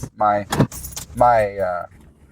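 Keys jangle as a person climbs out of a parked car, the metallic rattle close and brief, mixed in with a voice talking and a door sound.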